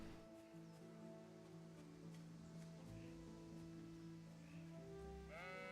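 Sheep bleat near the player in Kingdom Come: Deliverance, several short calls over a soft ambient bed of rustling outdoor game sound.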